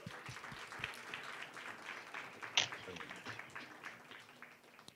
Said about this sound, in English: Please, another round of applause as we welcome our panelists.